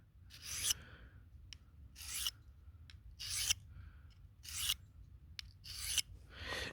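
A blade is sharpened with about five slow rasping strokes, each a separate scrape with short quiet gaps between them, close and fairly soft, with no talking.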